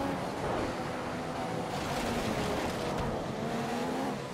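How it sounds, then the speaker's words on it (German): A Formula 1 race car engine in the F1 2015 video game drones loudly and steadily, with a rising and falling whine as it revs, heard alone. "Rosberg, komm, gib Gas"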